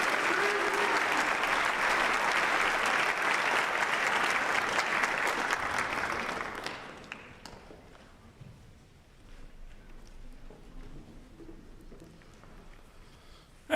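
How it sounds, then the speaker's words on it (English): Loud, sustained applause from an audience at a university honors convocation, steady for about seven seconds after an award presentation, then fading into quiet room noise with faint scattered sounds. "So how about a round of applause for Matt Marchiori?"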